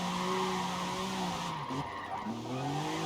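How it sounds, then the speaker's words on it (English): In a racing video game, a powerful car slides sideways with sustained, wavering tire squeal over a steady engine drone, and the pitch dips and rises as the skid shifts. "This thing is an absolute beast of a car to slide"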